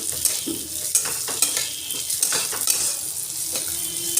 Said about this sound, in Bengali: মুগের ডালটা ভালো করে ভেজে নেব।